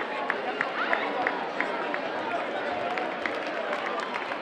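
Outdoor crowd applauding at a Judas capture reenactment in Navarra, steady scattered clapping mixed with crowd noise and chatter, moderately distant under a speaking voice.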